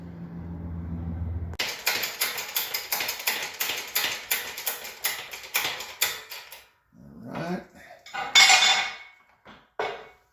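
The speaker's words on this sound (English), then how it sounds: "Once we get them in, then we'll press the washers on, and that will have the lower control arm done." Metal parts clatter as washers are pressed onto polyurethane lower control arm bushings for a C5 Corvette, with a quick run of sharp, evenly spaced clicks and clanks close by, then a few scattered knocks after a low hum at the start.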